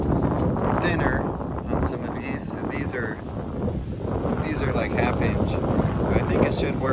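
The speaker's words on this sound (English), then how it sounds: "Alright guys, you can see here we got some serious wind kicking up." Strong wind gusts outdoors and buffets the microphone in a loud, roaring, uneven rush, while a person talks intermittently in the background.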